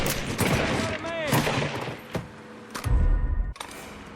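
Rapid bursts of gunfire in the Mafia 3 video game, sharp repeated shots and crackling volleys close by, with shouting voices mixed into the chaos.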